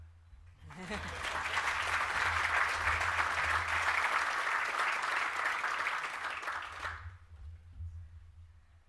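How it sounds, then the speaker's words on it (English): An audience at a business presentation of a plaque and photograph, at a Perth tourism and economy event, breaks into steady applause that swells, holds for about six seconds, then fades into room quiet. "You can clap."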